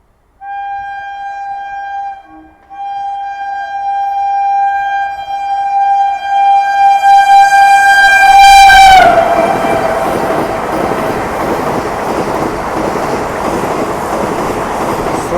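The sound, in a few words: Vande Bharat Express train passing and honking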